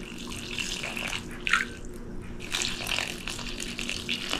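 Near-steaming hot water is poured over frozen satkora citrus to soak it, giving a steady, close splashing and trickling with a few brighter splashes.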